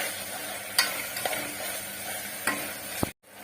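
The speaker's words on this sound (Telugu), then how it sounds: "ఇప్పుడు టమాటా ముక్కలు కొంచెం మెత్తబడే వరకు ఫ్రై చేసుకోవాలి." Tomato pieces fry with ginger garlic paste in a pot for chicken biryani, a steady close sizzle broken by a few stirring knocks of a spoon, with no talking.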